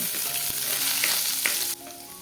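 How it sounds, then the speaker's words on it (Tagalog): Garlic sautéing in oil in a pan, a close, steady crackling sizzle that drops off sharply near the end, with no talk. "Uunahin ho nating igisa ang ating bawang."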